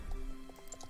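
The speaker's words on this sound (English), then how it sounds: "Your horse will automatically slow down unless you keep commanding it" Horse hooves clop in the video game Star Stable Online, a fast run of soft, fairly faint hoofbeats over a steady background bed of game sound.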